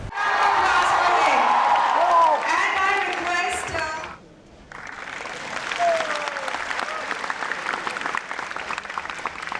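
An audience at an Anand Kumar event in Guwahati breaks into loud, sustained clapping with some cheering, drops to a brief lull, then picks back up into steady applause.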